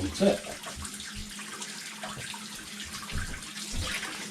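Tap water runs and splashes while soap is rinsed off a razor, a steady close hiss with a few louder gurgles and clunks.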